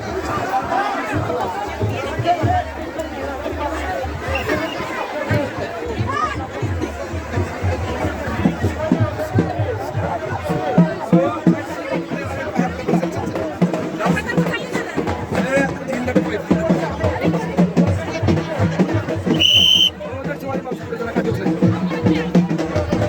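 A large crowd of devotees packs the Sasankathi procession at Padali, a loud, continuous babble of many voices with chatter close by and a brief high electronic tone near the end.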